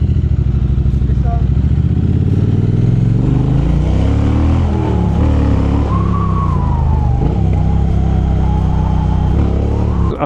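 A Triumph Bonneville motorcycle rides past loudly, its engine note rising and shifting pitch as it accelerates and passes close by, a strong continuous roar with no talk heard.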